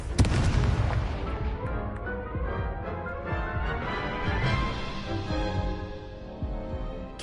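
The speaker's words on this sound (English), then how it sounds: "Confringo." Confringo explosive spell in Hogwarts Legacy, landing as a loud sharp blast that rings out into a long fading, shimmering tail over several seconds.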